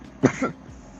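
A single short cough after vaping, close and fairly loud, followed by a softer second burst, then quiet.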